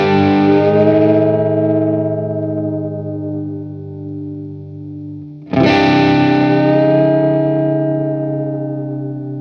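Electric guitar fitted with a Bigsby tremolo, a distorted chord struck and bent upward, ringing and decaying, then a second strummed chord bent up and sustaining, loud and alone with chorus-like effects.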